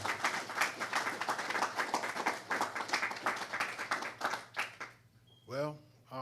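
An audience at a religious lecture applauds in a dense, sustained burst of clapping for about five seconds before it fades out, then a voice briefly speaks.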